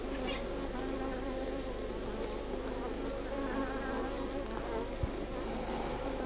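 Honeybees inside a hive building new comb produce a dense, continuous buzzing drone, fairly soft and steady throughout with no speech.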